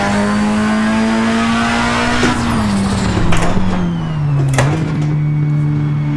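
A race car engine in the video game Assetto Corsa screams at high, steady revs, its pitch dipping slightly and wavering, with brief mechanical clicks over the loud drone.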